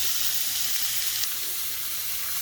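Colossal shrimp sizzling in a hot pan, a steady, close, hissing fry that holds evenly throughout with no talking.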